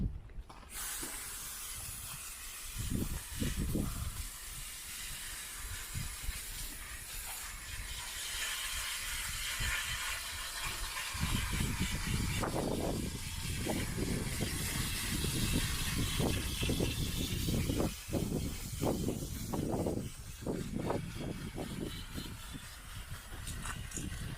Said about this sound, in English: You're going to spend roughly 5 minutes on each cartridge at least rinsing with the hose.